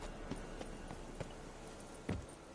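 Horse hooves clip-clopping in the Witcher 3 video game, a run of soft, evenly spaced hoofbeats over a steady ambient bed, with a slightly heavier pair of strikes near the end.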